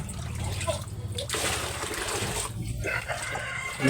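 Hand-washed laundry being rinsed by hand in water at home: close sloshing and splashing with uneven bursts, and some speech in the background.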